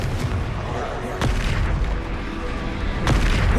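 Spell blasts from the Confringo fire spell in the video game Hogwarts Legacy, three sharp booming bursts over a dense, noisy battle mix with voices calling out.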